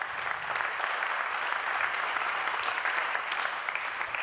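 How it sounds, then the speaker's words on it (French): An audience at an official launch session for The Arch 2022-2023 bursts into steady, dense applause that holds evenly for the whole stretch, with no voices breaking through. "Applaudissements également."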